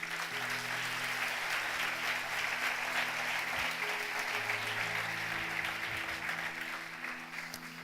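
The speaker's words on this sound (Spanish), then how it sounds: "¿Cuántos dan un aplauso fuerte a Él?" Loud, sustained applause from a church congregation, dense and steady throughout, with sustained keyboard-like tones underneath and a slight fade near the end.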